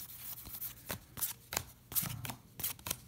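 Trading cards are handled and sorted, making soft, irregular snaps and flicks as the cards are shuffled and placed, quiet and close with short pauses between the clicks.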